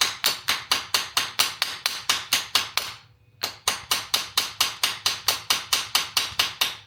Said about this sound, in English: So as you're hammering, just make sure you're keeping your wire straight as you go.